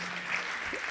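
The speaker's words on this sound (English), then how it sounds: "Please give them all a big round of applause." Audience at a community health service anniversary celebration applauds in a brief, even burst of clapping heard at moderate distance.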